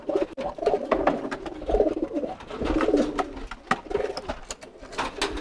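Pigeons coo in courtship, repeated rolling low coos in uneven bursts up close, mixed with wing flaps and shuffling in a loft, with no talk.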